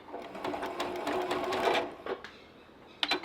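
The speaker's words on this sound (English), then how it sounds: "And I will backstitch here." A sewing machine backstitches a quilt seam in short close-up bursts of rapid needle clatter, pausing briefly before a final quick run.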